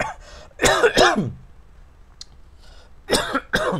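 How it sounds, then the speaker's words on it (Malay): Several harsh coughs and throat-clearing bursts from one nearby person, in two clusters separated by a quiet pause. "Batuk saya ni masih belum reda lagi"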